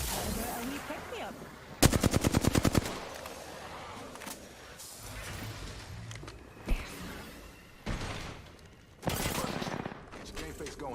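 Automatic weapon fire from Apex Legends gameplay: a loud rapid burst near the start, then scattered single shots and another sharp burst later, mixed with game sounds and voices.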